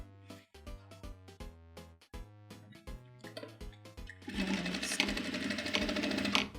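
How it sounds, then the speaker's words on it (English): Sewing machine tacking two jeans zipper pieces together: several short bursts of stitching separated by pauses, then a louder sustained run of rapid needle clatter, close and alone. "I'm just going to use my sewing machine to tack these two pieces back together."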